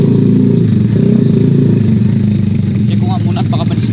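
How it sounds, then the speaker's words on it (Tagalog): A motorcycle runs with a steady engine drone while something on it seems to snag or catch, producing scraping clatter and rattles that come through more clearly toward the end. "Parang may sumasabit sa motor ko ha."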